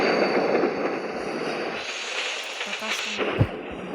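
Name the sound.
freight train taking a sharp curve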